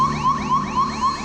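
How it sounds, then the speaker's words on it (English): Alarm tone sounding aboard a spacecraft during a rough lunar-descent sequence: a loud, rapidly repeating electronic warble of rising chirps, steady and continuous over a low hum. "a problem with the onboard computer. 1202 alarm."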